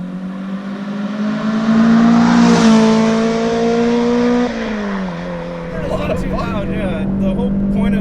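A 2ZZ-swapped Toyota MR2 Spyder with a 5-speed, its engine uninsulated and loud, pulls at full throttle up a hill, the revs climbing steadily before a shift and a renewed pull, with voices talking over the drone near the end.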